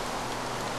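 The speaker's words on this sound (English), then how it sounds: "It's raining now." Steady rain in the video game Minecraft, a brief, even wash of dense hiss with nothing else over it.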